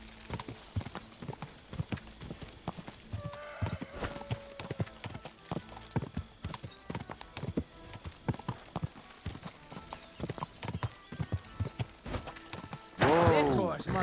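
A horse's hooves clop in a steady, close rhythm in the video game Kingdom Come: Deliverance II, with a short whinny breaking out near the end.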